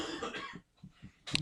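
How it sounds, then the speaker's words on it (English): A single harsh cough, loud and close to the microphone, follows a stretch of throaty vocal noise and short murmured bursts during a live radio talk show. "I'm pretty sure you could still hear that cough"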